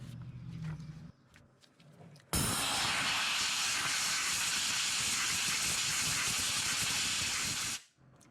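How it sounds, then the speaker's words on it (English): Compressed air blasts debris off a Honda J-series V6 engine, a loud continuous hiss lasting several seconds after some quiet handling noises, then abruptly cutting off. "then we'll go ahead and I'll blow all this junk off"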